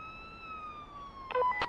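An ambulance siren in the police video game Police Simulator: Patrol Officers: a steady, gliding electronic wail, fairly faint, ending with a brief burst of clipped, warbling tones.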